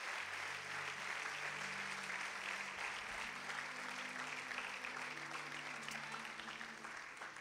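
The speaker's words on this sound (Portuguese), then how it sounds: "Você pode dar um aplauso ao Senhor por essas pessoas?" A church congregation claps to welcome first-time visitors during a service, steady faint applause sustained throughout, with a low droning tone underneath.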